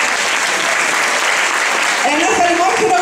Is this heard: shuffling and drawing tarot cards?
no